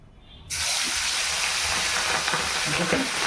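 Salted, turmeric-coated fish dropped into hot oil bursts into a loud, steady spluttering sizzle that starts abruptly and continues with crackling pops.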